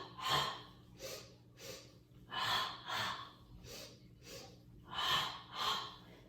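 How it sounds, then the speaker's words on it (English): Rhythmic, forceful nasal breathing during a core-focused yoga exercise, about ten close sharp inhales and exhales in a steady pulsing pattern, with no talking between breaths. "1, 2, inhale. And 1, 2, exhale."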